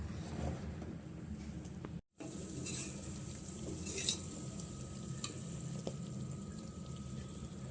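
Homemade desi ghee simmers in a pot, giving a steady soft sizzle and bubbling with a faint scrape as it is slowly stirred, continuous and close, with a brief dropout near the start.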